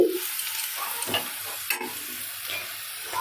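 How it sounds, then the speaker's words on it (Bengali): Chopped onions sizzle and fry in a pan while a utensil stirs them, with scraping clicks and bursts of sizzle over a steady frying hiss. "এবার পেঁয়াজগুলোকে নেড়ে চেড়ে লাল লাল করে ভেজে নেব"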